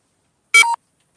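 A phone sounds a low battery warning, a single short electronic beep in two quick tones, loud and close against silence, in a workshop during table building.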